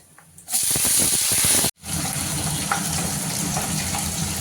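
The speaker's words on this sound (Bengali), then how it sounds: "পেঁয়াজটা একটু লাল করে ভেজে নেব।" Chopped onion frying in mustard oil with dried red chilli, cumin, whole garam masala and bay leaf, a loud close burst of crackling sizzle, a brief break, then a steadier continuous hiss.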